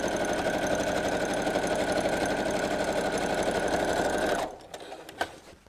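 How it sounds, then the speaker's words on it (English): A sewing machine runs steadily while top stitching fabric for a BBQ utensil roll, a fast even mechanical whir for about four seconds that stops abruptly, followed by a few small clicks. "So do a bit of a top stitch."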